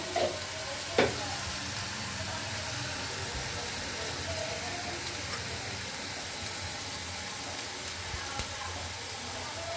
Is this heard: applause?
no